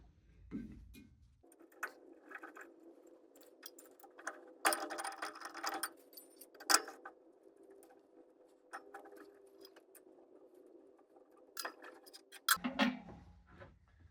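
Plate of a Schwartmanns S1 swaging machine being turned, giving a quiet mechanical hum with scattered clicks, ratcheting clatter and a few louder bursts of metallic rattle, and no voices.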